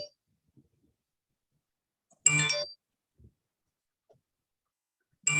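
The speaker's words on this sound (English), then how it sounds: "it is Toy's phone" A mobile phone rings in two brief electronic bursts a few seconds apart, fairly close, in an otherwise quiet room.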